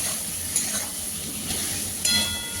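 Ground spices with ginger, cumin, green chilli and dried chilli paste sauté in a pan, giving a steady close hiss of frying with a few faint stirring scrapes.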